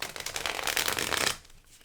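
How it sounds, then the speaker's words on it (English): Tarot cards are riffled and shuffled by hand in a steady, close, crisp burst of papery flicks that stops abruptly near the end, with no voices. "I'm shuffling and hoping that I get a card to fit the book that I've already chosen"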